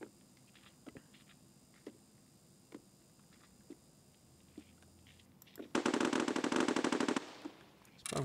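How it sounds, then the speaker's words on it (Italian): Gunfire in the video game Escape From Tarkov: single distant shots spaced about a second apart, then a loud sustained burst of rapid automatic fire lasting over a second, followed by another shot. "Spara qualcuno da dietro, forse,"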